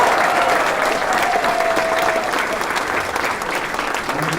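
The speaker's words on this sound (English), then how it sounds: "Entire cast a round of applause," Steady, loud applause from the audience at an amateur musical variety show revue, honoring the whole cast, filling the room for several seconds with a brief sustained tone beneath it.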